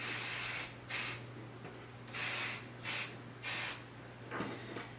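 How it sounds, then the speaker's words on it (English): Short bursts of spray adhesive hiss from an aerosol can over fabric pieces for a sewn owl stuffy and purse, four or five separate sprays of about half a second each, close and fairly loud over a steady low hum. "I'm just like spraying a little bit everywhere"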